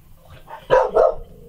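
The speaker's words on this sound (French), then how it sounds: "Nelson, excusez mon chien. Il parle, ça ne change pas." A dog lets out two quick, sharp barks close by, standing alone against a quiet background.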